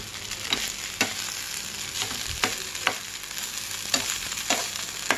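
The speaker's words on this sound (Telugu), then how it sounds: "అడుగుదాకా కలుపుకోవాలి" Curry leaf rice stirred from the bottom of a pan over a low flame, a steady soft sizzle broken by about eight sharp spoon scrapes at irregular intervals, close up with no voices.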